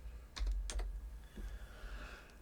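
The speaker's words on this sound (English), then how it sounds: "My two-finger typing, which takes quite a while." Slow two-finger typing on a computer keyboard: a few scattered, hesitant key taps with gaps between them, quiet and close in an otherwise still room.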